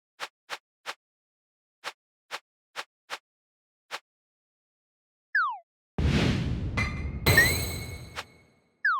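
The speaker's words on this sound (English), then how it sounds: "We get a sound now when we move from button to button." Game menu interface sounds in a Unity 2D space shooter, a row of short crisp clicks as the selection moves between buttons, then a couple of quick swishes, a noisy burst and a bright chime.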